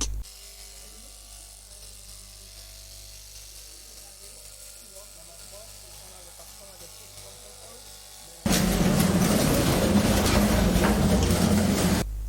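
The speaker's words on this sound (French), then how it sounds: "De jeunes Béninois rompus à la tâche manipulent avec efficience ces machines de couture spécifiques." Industrial sewing machines run on a factory production line in Benin, a quiet mechanical hum for several seconds, then a much louder, steady whirring buzz from nearby machines over the last few seconds.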